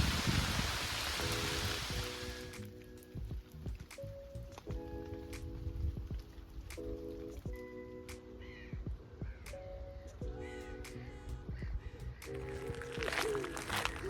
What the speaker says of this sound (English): look at the amount of rain on my lens, and I'm under the trees at the moment, so it just gives you some idea of how much it's chucking down